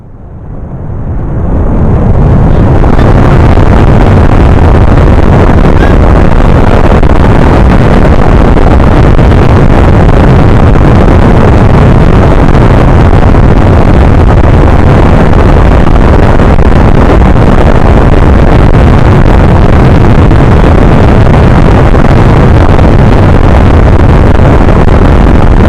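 Model rocket launch roaring right after ignition: a loud, dense broadband rush that swells within the first two seconds and then holds steady and powerful, wind-like, for over twenty seconds with no voices.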